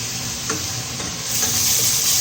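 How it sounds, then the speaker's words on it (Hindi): Carrots with black pepper and salt frying in a pot for carrot pulao, a steady close sizzle with faint stirring scrapes, growing slightly brighter toward the end, no voices. "फ्राई करेंगे थोड़ा।"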